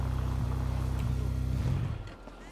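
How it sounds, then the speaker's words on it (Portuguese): Yamaha YZF R6 2017 motorcycle engine in GTA 5 runs with a steady, pulsing drone that holds loud for about two seconds, then cuts off sharply and fades to near silence. "Olha o barulho que ficou nessa moto"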